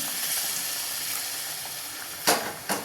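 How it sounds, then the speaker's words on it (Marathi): Hot water poured into a pan of egg curry gravy sets up a steady, close sizzle and hiss, with two sharper splashing surges near the end and no voices. "आता यात गरम पाणी ओतून घेते आणि चांगली एक उकळी आणायची 5 मिनटं."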